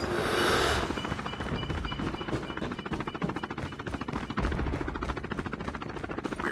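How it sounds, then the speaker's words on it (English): Chopper gunner helicopter in the video game Call of Duty Mobile, rapid continuous machine-gun bursts rattling over a rotor drone, loud and sustained after a brief opening whoosh. "Heads up. The enemy has deployed chopper gunner."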